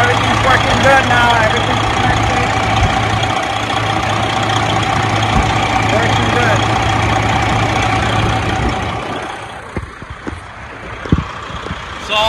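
A Freightliner Columbia truck engine idles steadily with a loud diesel rumble and drone, then cuts out near the end, leaving a few scattered clanks close by.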